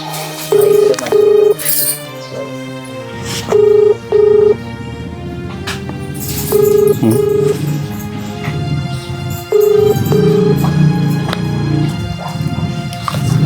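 A series of telephone dial tones beeps in short bursts, followed by repeated ringing pulses, with some background rustling between.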